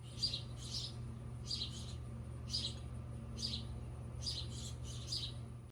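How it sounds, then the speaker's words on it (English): Baby birds in a patio birdhouse chirp in short, high bursts, about seven clusters spread evenly, faint over a steady low background hum. "We have a birdhouse on our patio and it's kind of exploded with baby birds."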